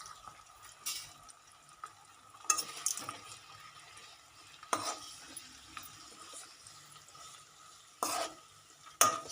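A homemade hair oil mixture is stirred in a pan, with soft scraping and swishing under a faint sizzle and sharp utensil clinks recurring every couple of seconds, close up and with no voices.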